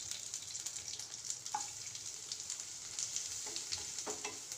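Dried red chillies and curry leaves sauté in a pan of hot oil while a Tamil rasam is cooked, a steady close sizzle with a few crackles and stirring sounds and no talk.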